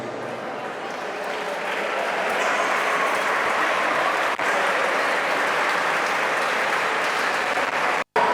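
Loud, sustained applause from a crowd at a handball club team presentation in Benicarló, honoring the youth men's squad, with a thick, continuous roar of clapping that swells after a couple of seconds and holds steady.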